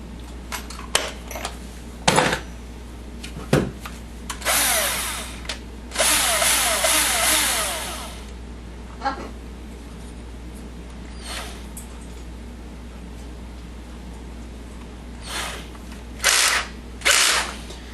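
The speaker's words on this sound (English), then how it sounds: "First thing I need to do is put in the bit I was using last night to pre-drill" A power drill pre-drills holes for a monitor shelf in an arcade cabinet, with several short whirring bursts and a longer sustained run between clicks and handling noise over a steady background hum.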